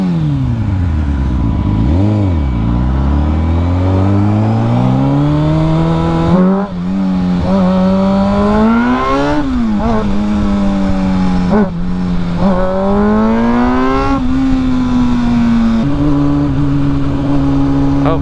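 A newly bought motorcycle ridden hard on the road, its engine loud and close, revving up and down through repeated rising and falling pitch sweeps as gears shift, with no talking over it.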